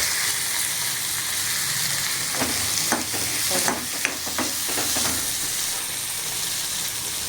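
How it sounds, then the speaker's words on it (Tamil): Pirandai (veld grape) sautéing in a pan, a steady broad sizzle with a few sharp scraping stirs in the middle and no talk. "இப்போ இந்த பிரண்டையை வதக்கிடலாம்"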